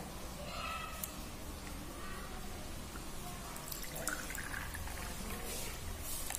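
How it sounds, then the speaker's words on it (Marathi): A cup of drinking water being poured, a soft continuous trickle and splash heard close up and faint for several seconds with no one speaking. "तर 1 कप पाणी घ्यायचं आहे"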